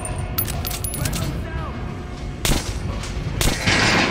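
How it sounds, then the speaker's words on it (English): Gunshots ring out at a training dummy in the video game Metro Last Light Redux, with two loud sharp cracks about a second apart over a dense, noisy game soundscape. "Shoot the dummy in the head."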